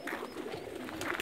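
Soft, low cooing of flying pigeons, a couple of gentle throaty calls close by against faint background noise.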